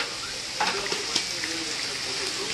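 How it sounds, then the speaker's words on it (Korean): Beef and pine mushrooms sizzle and crackle in a hot pan, a soft steady frying hiss with a few sharper pops, fairly quiet and close. "지글지글 자 보글보글 하는구나"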